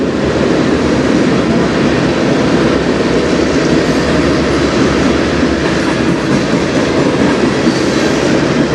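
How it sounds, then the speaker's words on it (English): A CN international manifest freight train rolls past close by on the Strathroy Subdivision, arriving from the States through a tunnel, making a steady loud rumble with continuous wheel clatter and no break. "This train's the freight, the international freight, comes from the States through the tunnel"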